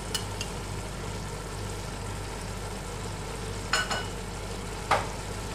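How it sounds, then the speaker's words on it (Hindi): Masala with turmeric and cumin frying in a pan, giving a steady close sizzle with two short scrapes of a utensil near the end, and no talk. "आप देखें हमारा मसाला कितना अच्छा भुनते तैयार हो गया है"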